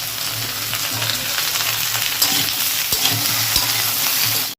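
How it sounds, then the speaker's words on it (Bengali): Potatoes, okra and chopped tomatoes fry in a pan with a dense, continuous sizzle, close and steady, broken by a few light stirring knocks before a sudden cut at the end. "আলুগুলোকে ভাজা হয়ে গেছে, এবার দিয়ে দেবো ঢ্যাঁড়স। এটাকে ভাজা হতে হতেই দিয়ে দেবো টুকরো করে কেটে রাখা টমেটোগুলোকে।"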